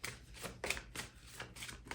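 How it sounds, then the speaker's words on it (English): Tarot cards shuffled and handled in rapid bursts, a soft papery riffle repeating roughly every half second, close and fairly quiet with no voice. "I'm going to start by picking one of the major arcana cards as general"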